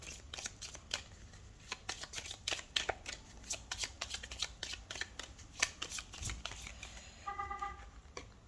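Tarot oracle cards being shuffled by hand: a quiet, rapid run of papery riffles and flicks in uneven bursts, close up, with a faint distant siren rising near the end and no talking.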